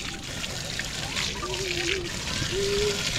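Cold water runs and trickles steadily from a beach shower by the Dniester River, a soft continuous splatter with faint background noise and brief tonal squeaks.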